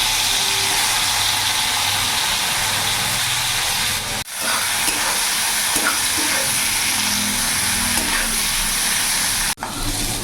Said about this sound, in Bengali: গরম হয়ে গেছে, চিংড়ি মাছগুলো দিয়ে দেবো।